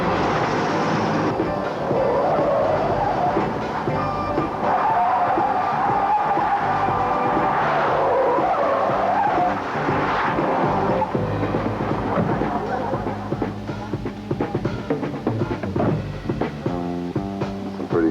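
A 1977 Firebird stunt car roars past at an outdoor stunt event, its engine and tire noise loud and sustained throughout, with rough skidding and scraping swells and a broadband rumble building toward the end.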